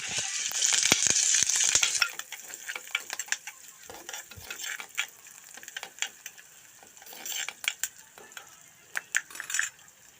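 Curry leaves and green chillies fry in hot oil, giving a loud burst of crackling sizzle at first that settles into softer sizzling, with spoon scrapes and clinks against the pan throughout.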